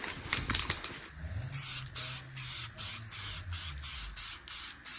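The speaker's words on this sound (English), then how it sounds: "So I'm about to just spray this real quick" Rattle can of regular matte black spray paint used on a Jeep SRT part, giving a steady close hiss in repeated short bursts over about four seconds, preceded by a brief rattle of the can.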